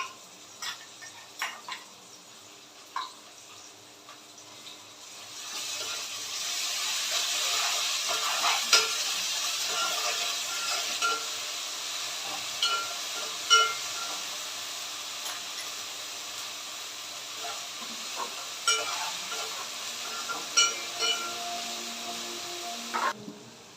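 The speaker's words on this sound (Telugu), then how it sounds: "మసాలా అయితే ఈ విధంగా అయితే ఫ్రై అవుతుంది" Ginger garlic paste masala fries in a pan for a coconut rice and chicken curry, a steady sizzle that swells after a few seconds, broken by repeated clicks and scrapes of stirring.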